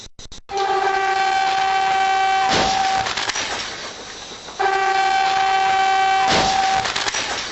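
A train rushes past through a level crossing in Austin, Texas, sounding its horn in two long, loud blasts with a broad roar of rail noise carrying between and beneath them.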